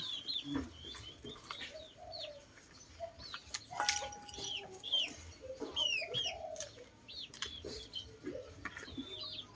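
Chickens cluck and coo around a home vegetable garden in rural Thailand, scattered soft calls and short clucks at moderate distance mixed with other birdsong.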